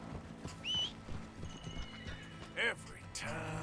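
A horse in Red Dead Redemption 2 galloping with rhythmic hoofbeats while neighing and whinnying in short sharp calls, as a person talks over the action.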